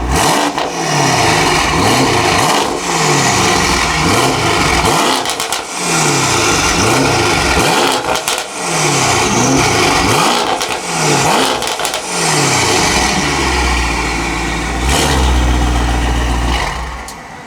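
A salvage Mercedes-AMG GT63 S exhaust revs hard several times in a row in Sport Plus mode, each loud blip rising and falling, then settles into a deep, steady rumble near the end.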